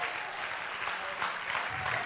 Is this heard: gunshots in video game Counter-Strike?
no